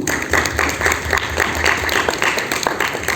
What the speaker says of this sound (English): So give our panels here a warm round of applause